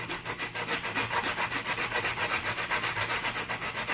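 A mandolin fretboard is being sanded smooth by hand. The rubbing strokes are quick, steady and regular, and each back-and-forth pass on the wood makes a loud, close scratching rasp with no talk over it.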